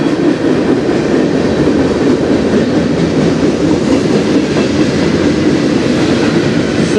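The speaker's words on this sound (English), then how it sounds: "Single locomotive" A CN freight train with a single locomotive rolls past on a foggy day. Its steady, loud wheel rumble and clickety-clack of the railcars carries on without a break.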